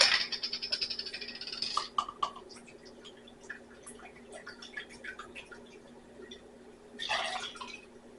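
Apple cider vinegar poured into a measuring cup in a home kitchen while making a spiced recipe: a soft liquid pour at the start, a quiet pause, then a second brief pour near the end.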